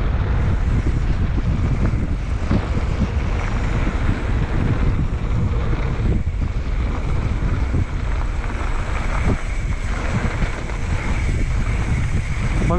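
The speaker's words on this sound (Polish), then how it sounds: "Trochę wieje." Strong wind at an outdoor mountain bike park buffets the microphone in a continuous, loud, rushing roar with gusty swells and low rumbling that lasts throughout.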